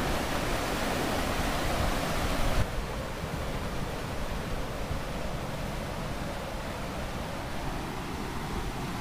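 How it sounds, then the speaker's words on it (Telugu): Water surges under full pressure through the gates of Peruru dam, a loud, steady, broadband roar that fills the whole stretch without pause, heard close and alone. "చూడవచ్చు ఇప్పుడు ఫుల్ ప్రెజర్గా వెళ్తున్నాయి అన్నమాట గేట్లో నుంచి"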